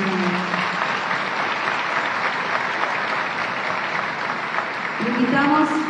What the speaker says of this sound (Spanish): Un fuerte aplauso, señor.